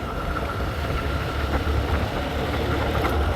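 A motorcycle engine runs steadily as a friend starts it and rides slowly, a continuous low rumble with an even drone throughout, fairly close, with no talking over it.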